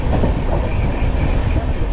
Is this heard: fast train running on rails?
yes